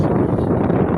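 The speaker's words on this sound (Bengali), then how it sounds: "ও ঠান্ডা বাতাস দেখছেন কি সুন্দর ঠান্ডা বাতাস।" Cool wind gusts across the Padma riverbank at Rajshahi, buffeting the microphone with a dense, close rumble that stays loud and unbroken throughout.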